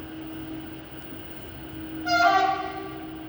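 A Traxx freight locomotive horn sounds loudly for about half a second, a bright harmonic blast rising over a steady rumble of rail noise.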